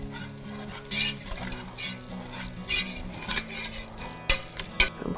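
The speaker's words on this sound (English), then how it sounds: "As you slowly pour it in, I'm going to be whisking it the whole time." A whisk scrapes and stirs steadily in a pot as cream goes into broccoli cheddar soup, soft repeated metallic swishes with a few sharper clinks of the utensil against the pot, alongside a low steady hum.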